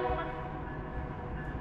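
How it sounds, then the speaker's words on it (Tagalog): A train horn sounds in a sustained, loud tonal blast, holding steady for over a second with a low rumble beneath, near Lower Dewey Lake in Skagway, Alaska. "Ang lakas ng busina ng train nila."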